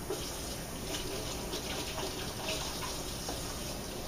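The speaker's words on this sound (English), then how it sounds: "I'm going to rinse my hands real quick here." Hands being rinsed under a running kitchen tap while baking Hawaiian sweet rolls, a steady close hiss of flowing water splashing into a sink, alone and unbroken for a few seconds.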